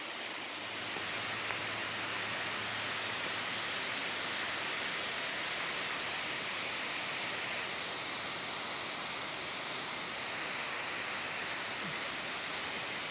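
Heavy rain falls steadily, a dense, even hiss that continues unbroken and fairly loud throughout with no voices.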